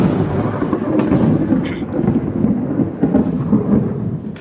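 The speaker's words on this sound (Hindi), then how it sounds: "बरसात होने वाली है, काफ़ी तेज बिजली गरज रहा है।" Loud rolling thunder rumbles steadily ahead of rain, a deep continuous growl with a few sharper cracks in a quiet indoor setting.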